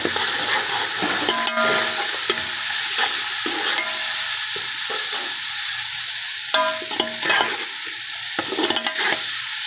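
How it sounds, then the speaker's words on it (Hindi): Whole spices, bay leaf, cinnamon and black pepper, with garam masala, sizzle in a pot while a utensil scrapes and stirs in irregular bursts, close and moderately loud. "अब इसको हम अच्छे तरीके से मिक्स करेंगे।"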